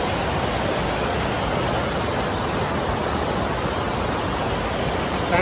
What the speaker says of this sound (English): Well, there's the waterfall, and speak of the devil, here's a water crossing.